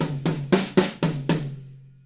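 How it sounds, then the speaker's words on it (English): A rock drum fill: a flam on the snare followed by strikes on a tom, about six quick, evenly spaced hits in two seconds, close and alone, ringing out at the end. "it's a bit tricky to get your flam in on the snare and then your hands straight onto the tom"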